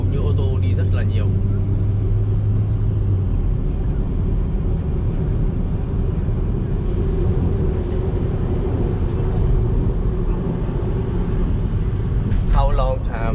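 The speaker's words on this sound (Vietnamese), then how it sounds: "hầu như ô tô đi rất là nhiều" Busy road traffic in Johor Bahru, Malaysia: a steady, loud roar of cars passing nearby, with occasional voices over the continuous rumble.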